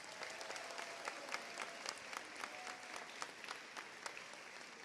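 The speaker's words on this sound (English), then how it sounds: "Let's give them a round of applause." Applause from a crowd at a high school graduation ceremony, a fairly faint, distant wash of clapping with distinct sharp claps popping out irregularly throughout.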